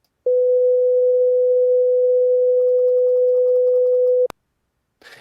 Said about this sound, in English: what I have recorded in it is a sine wave playing a 500 hertz tone